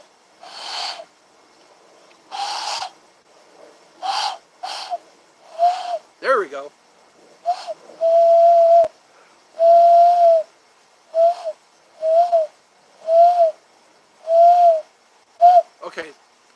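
A person imitates an owl with their voice, giving a series of breathy hoots at a steady, uneven pace, close and fairly loud, with a short spoken remark near the start.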